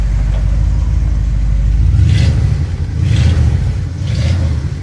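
A 1982 Ford Explorer truck engine idling and then being revved up several times in a row, with roughly three rising bursts over a steady low rumble, loud and close by.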